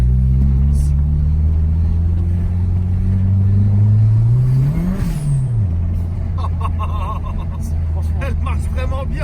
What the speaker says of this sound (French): le moteur est parti dans les tours